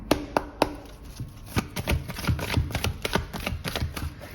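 Tarot cards knocked on with the knuckles and then shuffled by hand, producing several sharp close taps followed by a steady run of quick papery riffling clicks with no voices.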